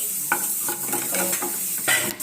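Curry leaves fry in a pan for a ridge gourd curry, a close, steady sizzle broken by several scraping stirs of a spoon over the surface. No voices are heard.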